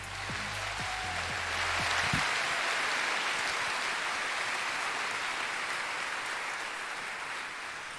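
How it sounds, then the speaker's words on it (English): A fashion show audience bursts into sustained applause, a dense wash of clapping that swells and holds steady before slowly easing off. "Let's give a round of applause to the second half of the show this evening."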